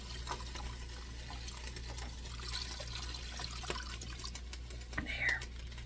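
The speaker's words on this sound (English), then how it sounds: "So 2 cups of water go in this also" Two cups of water pouring into a pot of vegetarian chili, a soft steady trickle and splash under low background hum, with a brief sharper splash near the end.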